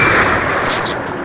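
M1 Garand rifle fire in the World War II shooter Call of Duty, a loud, close, sharp report that rings out briefly and then decays.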